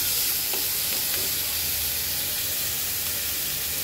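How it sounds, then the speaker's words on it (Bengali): Fish curry with taro, salt and green chillies being stirred in a pan, a loud steady hiss of frying with a few faint scrapes of the spoon, close and uninterrupted by speech. "এবার আমি এটাকে সুন্দর করে মিক্স করে দেব"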